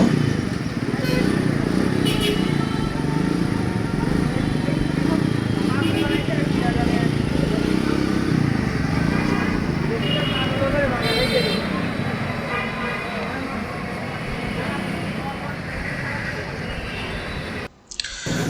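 A Yamaha Crux 100cc motorcycle modified to scrambler style runs continuously with a steady drone on a test ride, moving along road traffic with occasional distant horns, ending abruptly.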